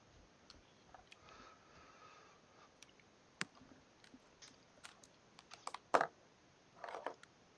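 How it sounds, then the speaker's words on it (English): Computer keyboard typing in scattered bursts of sharp clicks, faint and close, with quiet pauses between keystrokes and no talking. "just so you all don't hear the clickety clickety clackety clackety of the old feverish typing"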